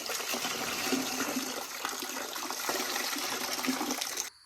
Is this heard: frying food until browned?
no